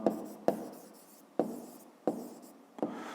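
Pen writing in a notebook, five separate scratchy strokes each starting with a sharp tap and trailing off, close and clear with no talk.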